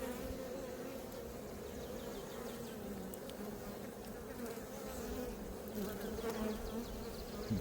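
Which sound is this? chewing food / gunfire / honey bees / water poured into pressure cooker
honey bees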